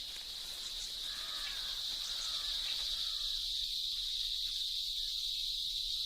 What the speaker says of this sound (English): The cicada's love song is the loudest noise in the insect world.